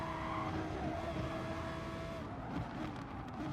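Race car in the Gran Turismo-style game at Dragon Trail Seaside braking for a hairpin, a steady engine drone with a sustained whine as the car slows, heard alone without talk.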